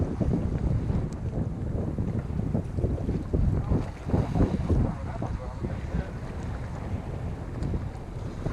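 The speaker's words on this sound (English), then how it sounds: "It's really windy out, but it should die down hopefully." Strong wind buffets the microphone on a boat while fluke fishing, a constant low rumbling roar with gusty swells that stays loud throughout.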